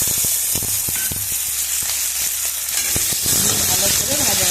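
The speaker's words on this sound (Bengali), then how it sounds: "ভালো করে ভাজাভাজি করে নেবো।" Onion frying in about two tablespoons of hot oil in a pan gives a loud, continuous sizzle and hiss close up, with occasional stirring clatter and bubbling spits.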